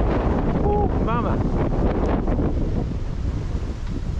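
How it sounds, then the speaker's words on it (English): Strong wind gusts buffet an outdoor microphone on a beach as a big storm rolls in, a loud continuous roar with a few brief whistling tones early on. "It's going to be windy. It's just coming through now."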